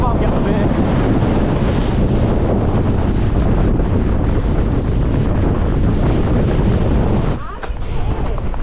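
Gale-force wind buffets a mountain path in the Langdales of the Lake District, a loud, continuous roar battering the microphone almost throughout, easing only briefly near the end.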